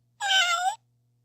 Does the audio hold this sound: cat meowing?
yes